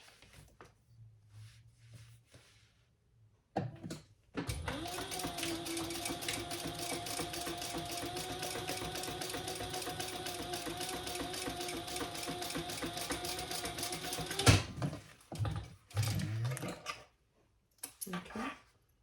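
A sewing machine top stitching a crossbody bag runs in one long, steady, close whirring burst of about ten seconds, with brief handling noises and faint talk before and after.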